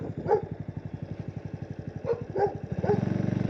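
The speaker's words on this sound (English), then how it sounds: "I just see the dogs." Dogs bark several times at close range, sharp yelps rising over a loud, rapidly pulsing motor drone that runs throughout.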